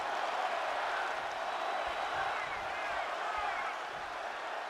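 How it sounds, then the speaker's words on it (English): San Antonio arena crowd chanting during a wrestling video game match, a broad, steady roar of many voices filling the whole stretch with no clear pauses. "the San Antonio crowd is chanting, one more time, one more time, one more time"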